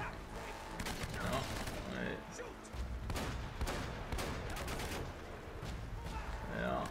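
Repeated gunfire and bursts from the video game Uncharted, dense and loud across the whole stretch with overlapping shots and battle noise, under some game talk.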